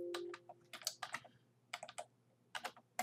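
Typing on a computer keyboard while entering a command to start an application, with short clusters of close, crisp key clicks separated by brief pauses.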